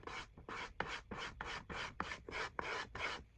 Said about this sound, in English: what I'm doing now, just lightly scraping this perimeter because the scraper is leaving a very smooth finish